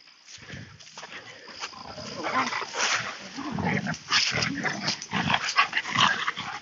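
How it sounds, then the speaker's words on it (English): Dogs on a Saturday morning walk at Lebanon Hills give off a run of close, loud barks and yelps, steady and busy across the whole stretch of sound. "just dealing with the dogs here"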